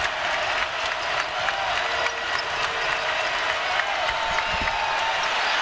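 A raucous arena crowd at a Tennessee vs Indiana exhibition basketball game roars and applauds, a loud continuous wall of cheering and clapping with scattered sharper claps and a low thud near the end.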